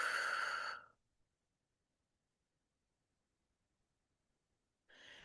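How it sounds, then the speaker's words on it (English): A slow, breathy exhale follows a deep inhale, close and soft, trailing off into near silence before another breath begins at the end. "Deep breath in. Hold it. Slowly exhale."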